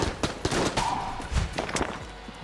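Enemy gunfire in Enter the Gungeon: a dense, loud volley of rapid shots with overlapping bursts and a brief tonal whine, continuing through the whole stretch with no talk.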